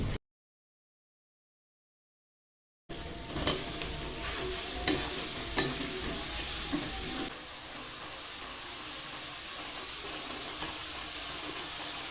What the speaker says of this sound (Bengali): আজকে মাছগুলো একটু ভোনা ভোনা করে রান্না করে নেব আর আমি কিভাবে মশলার ভিতরে মাছ ভোনা করে রান্না করি